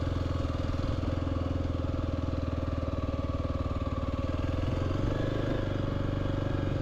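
Kawasaki KLX300 dual sport motorcycle with a 13-tooth front sprocket rolling slowly, its single-cylinder engine putting out a steady, even low thrum with a faint clatter, close and constant throughout.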